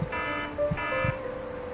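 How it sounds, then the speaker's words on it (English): Anchor alarm aboard a sailing boat preparing to cross the Great Barrier Reef, giving a steady electronic beeping tone with repeated pulses over low background noise, alone with no talk. "The first warning came from the anchor alarm."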